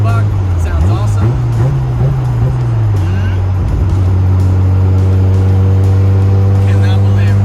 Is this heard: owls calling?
no